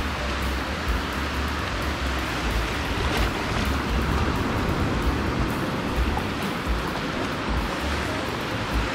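Ocean surf breaks at a La Jolla beach where a boat is launched through the waves, a steady roaring wash mixed with wind buffeting, loud and continuous throughout with no voices.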